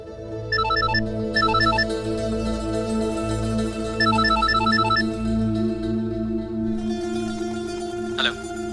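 A phone ringtone plays in the TV drama Ishq Subhan Allah, repeated electronic bursts over a steady musical background, fairly faint, with no talking.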